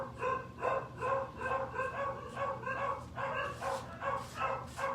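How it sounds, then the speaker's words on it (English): Dogs bark repeatedly in a steady, rhythmic series, slightly distant and muffled, roughly two barks per second with no talking. "Sorry about the dogs."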